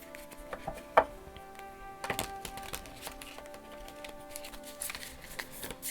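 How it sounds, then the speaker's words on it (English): Kali oracle cards are shuffled by hand, giving soft irregular riffling taps and clicks with one sharper snap early on, close and quiet over faint background hum. "I'm going to shuffle these Kali Oracle cards"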